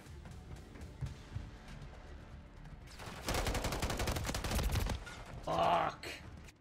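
Rapid automatic gunfire bursts in Call of Duty: Modern Warfare III, a dense volley of shots in the middle followed by a louder blast, over quieter scattered game sounds.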